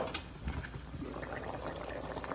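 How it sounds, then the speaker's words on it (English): Chitlins boiling in a pot of water on medium heat give a steady, close, continuous bubbling and simmering, with no voices over it. "I'm going to keep on boiling them for another hour and a half"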